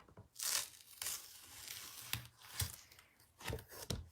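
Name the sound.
ripping paper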